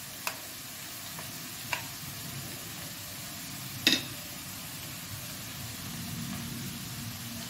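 A spoon stirs ground coconut paste into banana stem thoran cooking in a pan, giving a few sharp metallic taps over a faint, steady sizzle with no talk.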